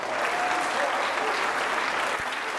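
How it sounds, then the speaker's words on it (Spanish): A crowd at a Banesco tenth-anniversary celebration gives a strong round of applause to company staff, a dense, even roar of clapping that holds steady throughout with no pauses. "un fuerte aplauso para todos ustedes"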